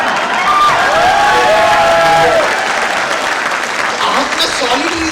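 A seminar audience at a company training program claps loudly, mixed with cheering and some crowd shouts.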